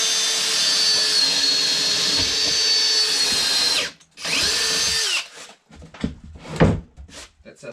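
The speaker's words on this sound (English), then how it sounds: "We'll get an entrance hole because the pattern bit can't plunge." A power drill bores an entrance hole into a workbench top in a garage workshop, whining loud and steady for about four seconds, pausing, then spinning up again briefly before some quieter knocks and handling noises.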